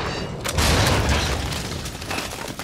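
Gunfire and a booming explosion from the video game Cryostasis burst out in a loud, dense cluster of impacts and rumbling, with mechanical clatter trailing off over a couple of seconds.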